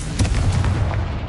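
A Confringo fire spell bursts in Hogwarts Legacy, a loud, continuous booming rumble with crackling bursts, several blasts running together over a little more than a second.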